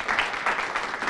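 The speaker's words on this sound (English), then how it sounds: "please a round of applause for our panelists" An audience at a beauty, fashion and lifestyle PR panel applauds the panelists in a short, steady burst of close clapping.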